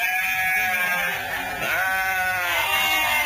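Wonosobo sheep bleat loudly and continuously, their harmonic-rich calls overlapping and wavering for several seconds with no talk.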